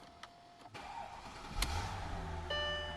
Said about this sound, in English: I'm going to fire it up.